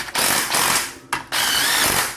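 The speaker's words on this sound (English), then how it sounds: "now that we have all of our bolts, we're gonna drive them in" A power tool drives bolts into a Honda transmission case in short, loud bursts, each whirring run stopping briefly before the next one starts.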